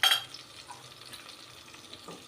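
Spice paste of coriander, cumin, turmeric and a little Kashmiri chilli goes into a pan for chana paneer, giving a brief loud sizzle that settles into soft frying crackle with light stirring scrapes close by.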